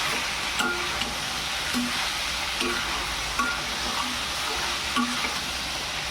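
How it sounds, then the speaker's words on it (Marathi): Pasta being stirred into cooked masala in a pan, with steady frying sizzle and intermittent soft scraping and clinking strokes of a spoon, close and continuous, no talk. "आपण पास्ता टाकून घेऊ आणि व्यवस्थित आता ढवळून घेऊ"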